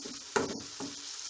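Onions fry quietly in a pan for a Kerala dry prawn roast, giving a soft, steady sizzle with a couple of stirring scrapes and no voices.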